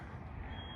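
A smoke alarm's continuous shrill electronic tone rings inside a used 2003 Southern Homes double-wide mobile home over a constant low rumble, steady and unbroken for the whole moment.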